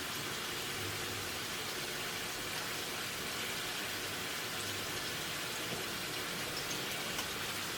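Two green chili peppers fry in a little ghee, giving a steady, soft, even sizzle and crackle that runs throughout at low volume with no talking.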